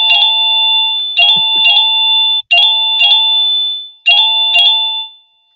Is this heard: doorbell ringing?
yes